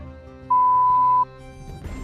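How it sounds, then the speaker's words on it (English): A single electronic beep, steady and clean, held for under a second over a quiet background. It is meant as a pager alert. "we had these little beeping torture devices called pagers."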